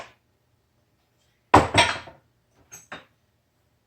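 Peanut butter powder stirred into dry ingredients in a bowl for a peanut butter banana loaf gives one short scraping, clattering burst, then a few faint taps against quiet.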